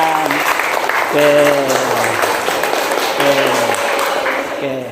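Classroom of students clapping for the best group in a lesson, lively close applause with a voice speaking over it in the room.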